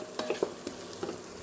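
Onion and fenugreek leaves fry in a pan with a low, steady sizzle, broken by a few soft scraping stirs of a spoon. The cooking sounds are near but quiet, and no one speaks.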